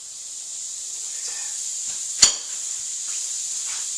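A steady, bright hiss of steak sizzling on a hot grill, with a sudden sharp clank partway through and a few soft knocks.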